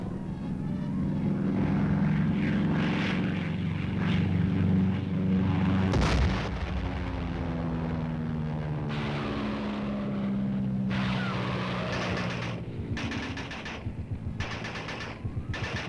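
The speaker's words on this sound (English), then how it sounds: "Their offensive was supported by heavy aerial bombardment." Military aircraft fly overhead during a Korean War aerial bombardment, with a loud sustained propeller and engine drone that slides in pitch, a sharp blast near the middle, and rapid bursts of gunfire crackling toward the end.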